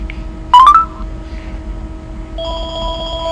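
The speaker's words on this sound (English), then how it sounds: "And my house phone's ringing." An incoming call rings a house landline, giving a short burst of tonal beeps followed by a steady electronic ringtone that starts about two-thirds of the way through and holds clear and close.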